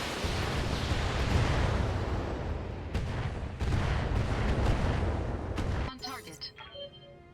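Heavy artillery fire in a video game, a dense roaring barrage of booms and rumbling blasts that runs for several seconds and then breaks off into fading electronic tones.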